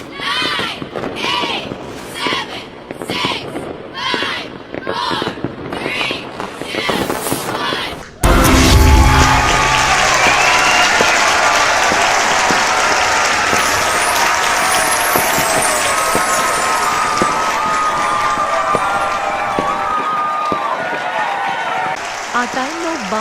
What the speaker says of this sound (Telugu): ఆ టైంలో బాంబులు పేల్చుతారు, చప్పుడు చేసి స్వాగతం పలుకుతారు